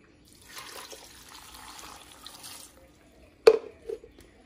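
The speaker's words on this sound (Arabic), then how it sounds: "نزيد الماء" Water poured into a pot of broccoli soup with onion and spices, a soft, continuous splashing wash for a few seconds, followed by a sharp clank and a couple of brief knocks.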